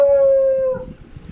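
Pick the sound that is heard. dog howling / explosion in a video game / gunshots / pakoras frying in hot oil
dog howling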